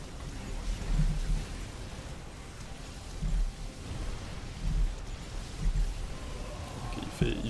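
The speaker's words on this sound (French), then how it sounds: "Okay, il fait du tempête." Psionic storm from StarCraft II in a Protoss versus Protoss match, a rumbling, crackling rain-like roar with periodic low swells, moderately loud under a commentator's voice.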